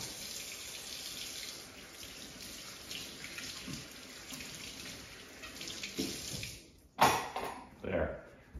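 Running tap water and soapy dish washing at a kitchen sink, a steady rushing stream throughout with a louder splash and clatter near the end.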